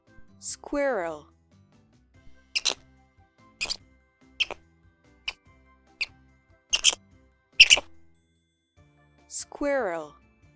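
Squirrel calls come as a string of short, high chirps and clicks at irregular intervals, framed by two longer trilling chatters at the start and end, fairly faint and alone.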